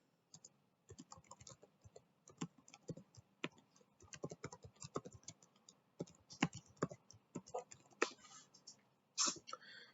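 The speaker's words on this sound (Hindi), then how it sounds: "तो मैं अपना टाइप इन करता हूँ" Fingers tap out a user ID and password on a computer keyboard in quick, uneven bursts of crisp clicks with short pauses between, close and fairly quiet, with no talking.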